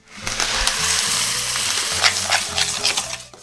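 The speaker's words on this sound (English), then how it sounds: "I wonder what it will be like if we fried it in a pan" Cement slime mixed with rice frying in a pan, a steady crackling sizzle with stirring scrapes and bursts of louder popping throughout, close up and without talk.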